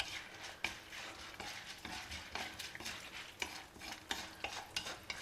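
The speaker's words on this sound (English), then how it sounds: "Now fry all these well in the oil." Dal and methi seeds fry in oil in a pan with a soft sizzling hiss, broken by frequent light stirring scrapes and clicks of a utensil, fairly faint and close, with no talking.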